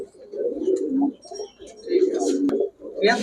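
Racing pigeons coo in soft, repeated bursts close by, with a brief sharp click near the end and faint talk in the background.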